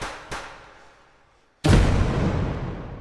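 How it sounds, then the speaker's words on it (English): An explosion in the VR shooter game H3VR, heard from behind a wall: a sharp bang early on, then a short quiet, then a loud booming blast that rumbles and fades slowly. "I can't get too close to the explosion even though it's behind a wall."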